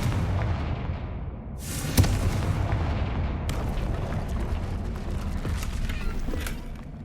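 A Confringo blasting spell explodes in the video game Hogwarts Legacy, with a sharp boom near two seconds followed by a loud, rumbling and crackling wash that lingers through the clip.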